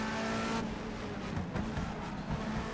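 A BTCC NGTC touring race car engine in the rFactor 2 racing simulator holds high revs as a brief, continuous buzzing drone that shifts slightly in pitch partway through.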